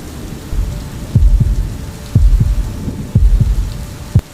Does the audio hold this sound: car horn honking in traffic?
no